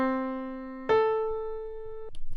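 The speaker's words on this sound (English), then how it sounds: "So here's our major sixth sounding like this." Two notes played one after the other on an instrument to form a major sixth, a lower sustained tone followed by a higher one that rings and then stops, clean and moderately quiet, with a short bit of speech at the end.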